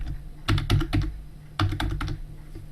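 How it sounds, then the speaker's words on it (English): Keys clatter on a computer keyboard as a password is typed, two quick runs of crisp clicks separated by a short pause, close and clear with no talking. "Just type your new password in here."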